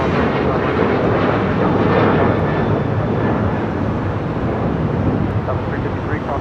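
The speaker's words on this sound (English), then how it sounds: "We got Aeromexico Flight 646 coming in from Mexico City. A Dreamliner about to touch down on 25 left." An Aeromexico Boeing 787 Dreamliner from Mexico City lands on runway 25L at LAX, a steady, loud, broadband engine roar that holds throughout with wind buffeting, while faint voices talk underneath.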